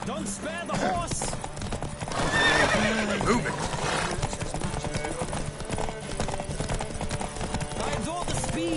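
Horses thunder along in a race in the video game The Witcher 3, rapid hoofbeats clip-clopping under loud neighs and whinnies, with a shouted voice and talking over the busy, close galloping.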